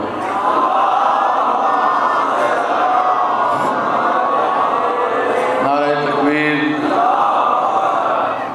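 A crowd chants salawat together at a religious majlis, a loud sustained roar of massed voices that swells into a stronger rhythmic call near the end.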